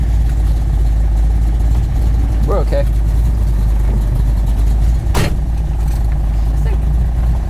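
A 1969 Chevelle with MagnaFlow exhaust idles with a steady, close, deep rumble; voices talk briefly over it and a short sharp noise cuts through near the end.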